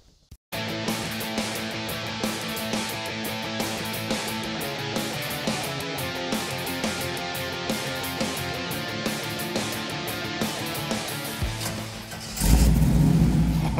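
A V8 Corvair drag car engine running close by, a loud steady lumpy idle with rhythmic pulses, rising into a heavier roaring rev near the end.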